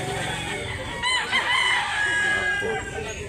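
A White Kelso rooster crows at a chicken market in Consolacion, North Cebu, in one drawn-out call above steady market clamour and a faint murmur of voices.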